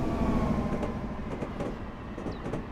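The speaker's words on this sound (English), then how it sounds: "we are cruising along in the FL9 dual mode diesel electric locomotive" Metro-North FL9 dual-mode diesel electric locomotive in Train Simulator, a steady low rumbling drone with faint rhythmic clicks as it cruises along, no voices.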